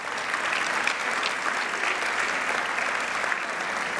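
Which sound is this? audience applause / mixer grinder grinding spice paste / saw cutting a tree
audience applause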